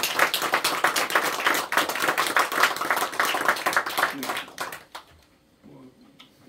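A church congregation claps for a member recovering from major surgery, dense sustained clapping for about five seconds that stops abruptly, followed by quiet room tone and a brief spoken reply.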